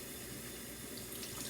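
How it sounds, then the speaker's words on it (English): Warm water pours from a kitchen tap while banana bread is being made, a steady faint rushing stream with no voices over it. "You gotta add the warm water."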